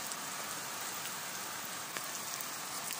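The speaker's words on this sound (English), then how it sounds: "It's very, very rainy." Heavy pouring rain falls steadily outdoors, a dense and even hiss of drops on surfaces with no talking.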